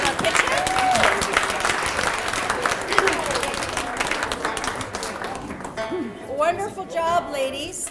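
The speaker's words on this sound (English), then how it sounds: "So let's give another big round of applause for Dylan in our kitchen." A house-concert audience claps steadily and loudly for a performer, the applause carrying on with crowd noise before fading into a few scattered voices and chatter near the end.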